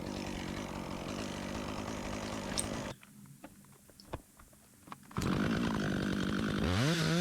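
A chainsaw cuts fir tree wood, its engine revving loud and close, then easing to a lower idle for about two seconds before roaring back under load.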